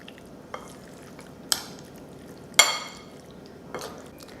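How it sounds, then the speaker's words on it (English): Biryani ingredients with mint, coriander leaves and squeezed lemon being stirred in a bowl, giving four sharp utensil clinks and scrapes spaced a second apart over a quiet background. "Now let's mix it."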